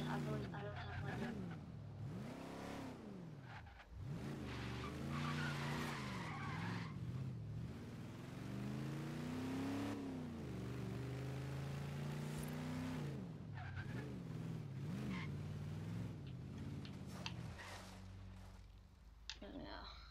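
Cars in the Forza Horizon 3 racing game, driven bone stock after a barn find, rev and skid with long tire squeals and shifting engine pitch, loud and continuous, with a voice talking over them.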